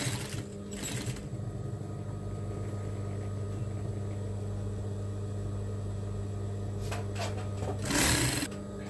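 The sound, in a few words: sewing machine stitching apron pleats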